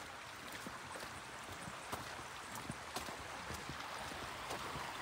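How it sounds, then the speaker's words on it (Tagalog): A strong river current swollen with mountain snowmelt flows past an onion field, a steady broadband rush with small splashes and gurgles throughout. "ang lakas po ng agos ng tubig. So natutunaw na yung mga snow sa bundok."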